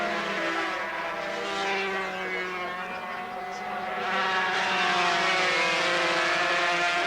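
1991 Snetterton 250cc grand prix racing motorcycles drone past in a sustained high-pitched engine whine that swells and fades, with a commentator talking over it.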